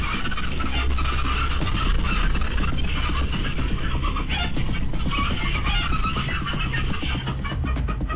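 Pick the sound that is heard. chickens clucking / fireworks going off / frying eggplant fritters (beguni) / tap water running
chickens clucking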